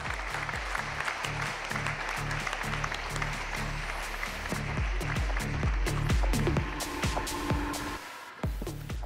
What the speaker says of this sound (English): So please join me in extending him a very warm round of applause.